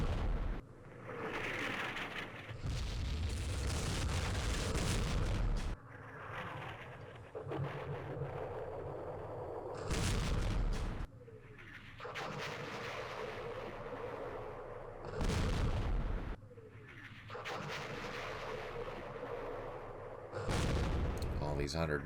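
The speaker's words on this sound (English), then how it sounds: "I wish we had heavier artillery, but we just have 105s." 105mm howitzer artillery fire in the Vietnam war game Campaign Series Vietnam, a series of heavy booming blasts and rumbling impacts in repeated bursts, some near and loud, with a voice speaking between them.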